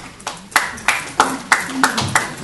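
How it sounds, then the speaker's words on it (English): Audience members clap at a regular city council meeting, a series of sharp, evenly spaced claps at a steady rhythm, fairly close and loud in a quiet room. "No clapping, please."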